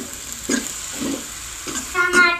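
Vegetables and potatoes stirred into cooked masala in a pan, scraping spoon strokes in an irregular rhythm over a soft sizzle, close by, with a voice speaking near the end.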